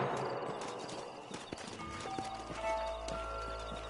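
Horse hooves clip-clop on the ground with a short whinny in Red Dead Redemption, mixed with low rumbling ambience, moderately loud and close.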